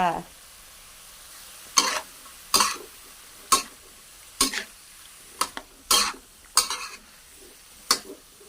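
Mixed vegetables with baby corn and marinated pork stir-fried in a pan, with sharp, irregular spatula clanks against metal over a faint sizzle, close and punchy between quieter gaps.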